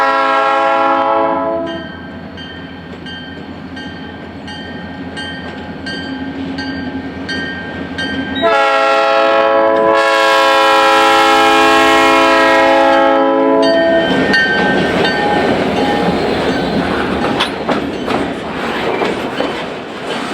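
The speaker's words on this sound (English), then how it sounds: "train is CN 6018, a rare SD40U rebuild" CN freight train led by an SD40U locomotive passing close by, a loud sustained horn blast followed by rumbling wagons and rhythmic wheel clatter over the rails, no talking.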